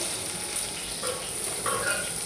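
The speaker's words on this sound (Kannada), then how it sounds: "ಈ ಥರ ಒಗ್ಗರಣೆ ಹಾಕ್ಕೋಬೇಕು" Hot oil sizzles and crackles steadily as mustard seeds, onion and garlic are tempered for drumstick sambar, with a few faint stirring sounds and no voices.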